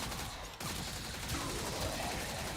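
Dense, continuous gunfire from the video game Warframe, a steady rattling barrage that holds for the whole stretch at moderate level, with a brief dip early on and no talking.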